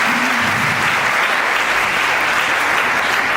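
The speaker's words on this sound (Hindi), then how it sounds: "आप अच्छी सी तालियां बजा सकते हैं।" An audience at a ceremony breaks into dense, sustained applause, loud and continuous throughout with no pauses.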